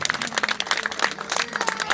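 Church congregation applauding during an evangelistic sermon, a crowd of hands clapping in quick, uneven bursts at moderate distance, steady for a couple of seconds without speech.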